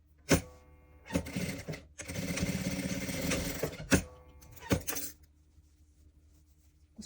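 A sewing machine stitches pieces of a fox toy in short bursts, with one long steady run of stitching in the middle, close and moderately loud, then quiet pauses between runs.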